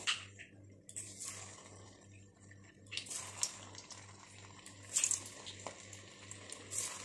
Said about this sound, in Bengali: আমি এবার মোদকগুলো দিয়ে দিচ্ছি এটাতে।